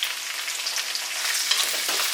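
Two large sliced onions hiss and sizzle steadily in a hot pan for a Kerala chicken dish, with light scraping as they are stirred, close and continuous with no voices.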